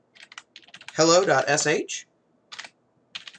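Bash commands typed on a computer keyboard during an Ubuntu shell lesson: quick, close key clicks come in short bursts before and after a brief spoken phrase.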